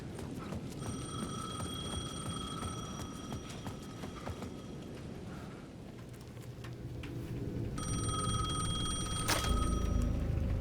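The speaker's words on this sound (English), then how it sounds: "The payphone at the edge of the plaza was ringing again." A payphone rings in the video game Alan Wake 2, giving two bursts of bright, trilling bell tones over a dense, rumbling game ambience. There is no speech.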